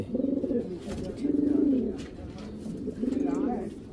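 Giribaz tournament pigeons coo in repeated soft, throaty bursts close by, three rolling phrases with brief pauses between, over a faint background hum.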